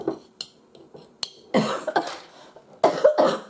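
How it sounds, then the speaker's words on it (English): A person coughs several times in short, hoarse bursts between quieter gaps, close to the listener, while making a fruit cobbler with granola topping in a kitchen. "So got that yucky cough"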